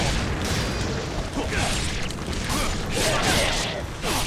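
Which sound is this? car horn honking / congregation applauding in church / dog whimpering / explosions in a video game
explosions in a video game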